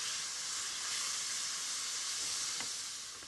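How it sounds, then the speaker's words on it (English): Chopped onion sizzling in melted butter in a risotto pan, a steady bright hiss with faint stirring scrapes, close and continuous with no talk. "the first step is just to add the chopped onion to the buttery and just giving it a little stir"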